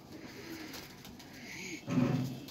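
A Teddy pigeon gives a few soft, low coos close by in a loft, faint at first and then a fuller burst, with quiet background rustling.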